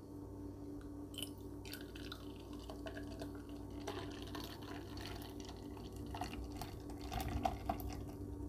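Coca-Cola fizzes in a glass, a faint soft bed of bubbling with scattered crackling pops and small drips spread across several quiet seconds.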